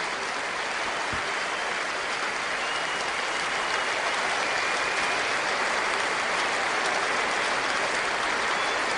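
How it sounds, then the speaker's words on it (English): A large cricket crowd at a Test match in England applauds Hashim Amla's triple century with sustained, dense clapping that stays even and loud throughout, with no distinct voices standing out. "Crowd give him deserved applause."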